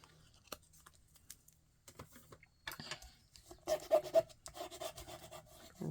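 A paper piece for a birdhouse card is rubbed down by hand in soft, scratchy strokes, sparse and faint at first, then a denser run of louder rubbing near the end.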